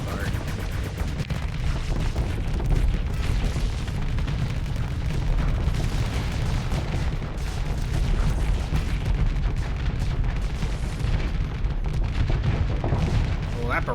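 Sustained ship weapon barrage in the space combat game Starsector, a dense continuous roar of rapid impacts and booming fire filling the whole stretch at steady loudness, with a voice talking over it at times.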